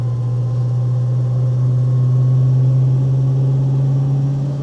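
A 1970 Ford Mustang Mach 1 with a 351 Cleveland engine and four-speed gearbox idling, a steady deep rumble that stays even and loud, close by, with no talking.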